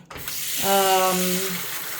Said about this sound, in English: Rinse all the suds out.